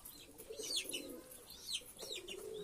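Pigeons, including grizzle pigeons, coo and call repeatedly in a loft. The soft, quiet calls overlap, with a few higher chirps among them and no talking.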